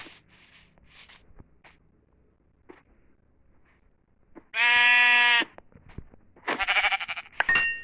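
Minecraft goats let out two loud, nasal bleats in a row, set against sparse game clicks and soft ambient sounds between the calls.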